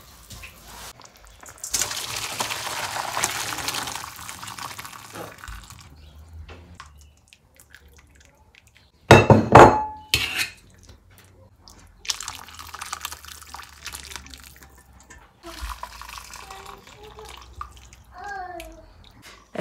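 Homemade chicken soup with carrot and onion strained in a home kitchen: a loud gush of pouring liquid about halfway through stands out against quieter clinks, drips and kitchen handling.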